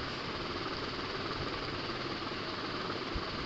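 A motorbike engine in the Roblox game Live Topia drones continuously, a dense buzzing, vibrating rumble at steady pitch, close and unbroken with no voices over it.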